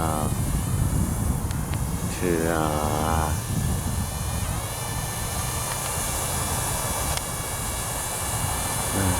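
Camera drone flown by phone control: a steady, loud, close propeller buzz throughout, with a brief rising whine early on and no pause in the drone.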